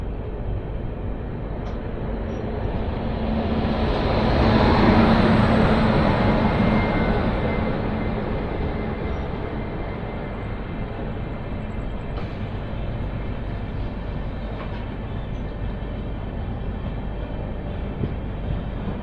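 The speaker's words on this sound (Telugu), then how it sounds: "16032 అండమాన్ ఎక్స్ప్రెస్ శ్రీ మాతా వైష్ణవదేవి కాట్రా నుంచి ఎంజీఆర్ చెన్నై సెంట్రల్ వరకు వెళ్తుంది ట్రైన్" The 16032 Andaman Express, running from Shri Mata Vaishno Devi Katra to MGR Chennai Central, rolls past with a broad rumble that swells to a loud peak near the middle and then settles into a steady, sustained roar.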